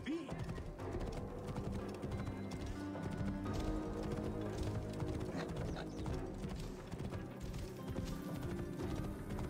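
Horse hooves clip-clopping steadily in the video game Assassin's Creed Origins, mixed with game ambience and background music, continuous and moderately loud throughout.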